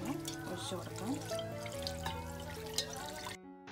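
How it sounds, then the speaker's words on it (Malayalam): Cold water is poured over blanched spinach in a kitchen, a soft trickling and dripping heard beneath a person talking, and it stops abruptly at the end. "ഇതിലേക്ക് തണുത്ത വെള്ളം ഒഴിച്ചു കൊടുക്കാം."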